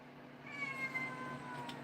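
A house cat meows indoors in a workshop, a few drawn-out mid-pitched meows close by over steady low background hum, with no talking.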